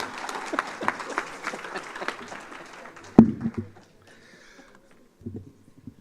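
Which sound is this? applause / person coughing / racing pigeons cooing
applause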